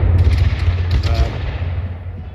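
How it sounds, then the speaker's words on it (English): Musket and cannon fire ring out at a 2023 reenactment of the Battle of Guilford Courthouse: a loud, crackling burst of close volleys that rolls into a rumbling, fading echo. "cannons and a couple of thousand muskets"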